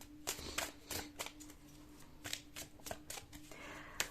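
Tarot cards being shuffled by hand, a series of about a dozen crisp, close riffling snaps at an uneven pace, fairly quiet with a faint steady hum underneath.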